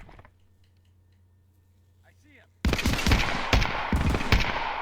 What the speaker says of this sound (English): scavs start shooting at me